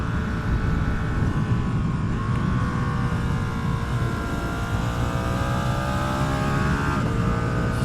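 A Ducati Streetfighter V2 motorcycle rides along a mountain road, its engine droning steadily with rising and falling pitch beneath constant wind rush, recorded close and loud throughout.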